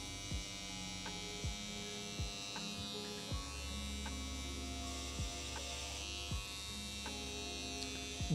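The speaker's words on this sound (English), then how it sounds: "the bigger the rug, the easier it is to use this little trimmer on it" A small electric rug trimmer runs on a rug with a steady, even motor hum, broken by regular light clicks or thumps about once a second as it is moved along the pile.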